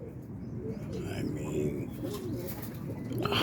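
Birmingham or Boston roller pigeons cooing softly in a loft, low rounded coos repeating under a man's close speech and steady background noise.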